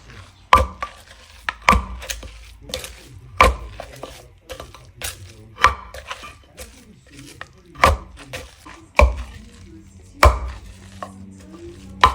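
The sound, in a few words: pounding and chopping fermented fish (pla ra)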